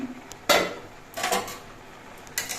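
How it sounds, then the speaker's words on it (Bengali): The lid comes off a kadai of banana stem pieces boiled with salt and turmeric. Three separate metal clatters ring out close by against quiet background noise, with no speech. "পাঁচ মিনিট পর আমি কড়াইয়ের ঢাকনাটা খুলে নিচ্ছি"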